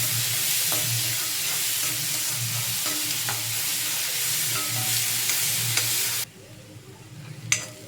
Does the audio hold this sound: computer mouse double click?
no